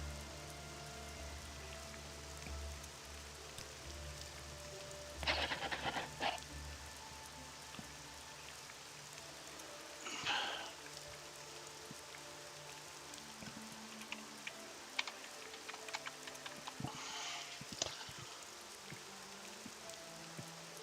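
Steady rain falls in the town of Caldera in the video game Morrowind, a soft continuous patter with occasional louder splashes.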